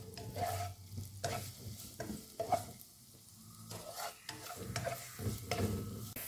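Onions frying in a pan for potato samosa filling, cooked only to light pink, with repeated stirring scrapes and a steady low sizzle, fairly close and without talk.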